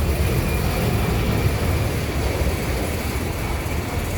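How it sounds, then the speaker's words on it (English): Big Boeing airliner taking off, heard as a steady loud rumbling roar of engines and airflow, dense and unchanging across the moment with no voices. "Airplane taking off right there."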